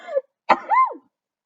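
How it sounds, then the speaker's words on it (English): A single sharp sneeze bursts out after a brief nasal intake, followed by a short voiced trailing sound, close and fairly loud. "I have a sneeze."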